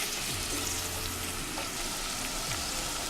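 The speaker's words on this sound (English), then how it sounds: "So you fry the onion." Chopped onion sizzles in hot oil in a pan as the base for Nigerian egusi (melon) soup, a dense, steady frying hiss with a few faint stirring scrapes, close and continuous, no voices.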